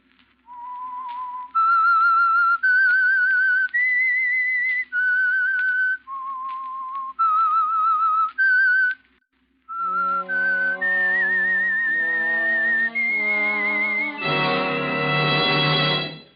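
Whistled theme signal of the radio drama The Whistler, sponsored by Signal Oil: a lone, clear whistled melody of held notes, followed by an orchestral passage that swells to a full chord.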